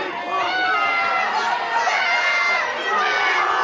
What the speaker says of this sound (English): And the crowd are going absolutely wild behind us.